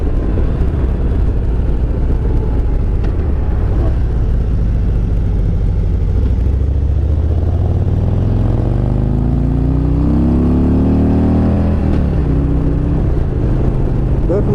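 A 2017 Harley-Davidson Road Glide with a Milwaukee 8 engine pulls hard on the road, its low rumble rising in pitch through acceleration over heavy wind rush, with a brief shift near the end.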